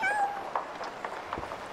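A cat in the video game Garden Life meows while being petted, several short soft meows spread across a brief moment over a quiet ambient music background.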